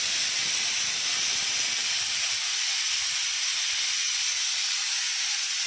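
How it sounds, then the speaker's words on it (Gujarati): A pressure cooker vents steam while khichdi cooks, giving a loud, steady, sustained hiss close to the microphone that runs unbroken with no talking. "કુકરની સીટીયું ચાલુ છે બાની ખીચડી."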